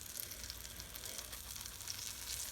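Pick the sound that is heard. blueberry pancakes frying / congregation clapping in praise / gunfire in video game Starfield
blueberry pancakes frying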